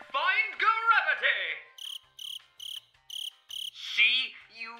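Five evenly spaced cricket chirps from a video game sound effect, loud and crisp, sounding alone between stretches of an animated character's voice.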